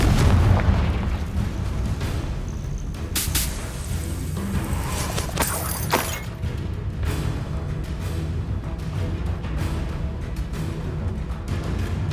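Spell explosions boom in Hogwarts Legacy combat: a loud blast and several sharp bursts and impacts in the middle, surrounded by rumbling battle noise and debris.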